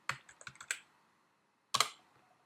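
Keystrokes on a computer keyboard while typing notes into a Mac Word 2011 document, a quick cluster of soft clicks followed by a pause and another short burst, close and quiet with no talking.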